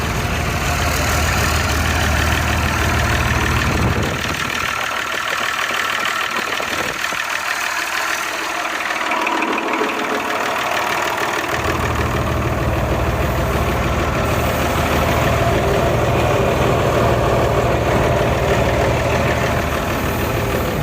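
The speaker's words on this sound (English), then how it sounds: "So this is his latest tractor." A recently built homemade tractor, its hydraulic brakes converted to mechanical, idles close by with a steady, loud rumble; the low end drops away for several seconds mid-clip before the full engine sound returns.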